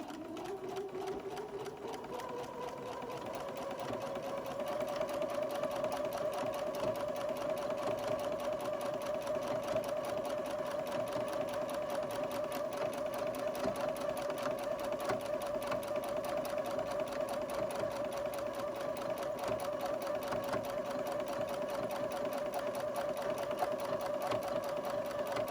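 A sewing machine stitches a newborn-sized elf hat, running steadily for over twenty seconds with a fast, even mechanical whir and rattle after ramping up at the start.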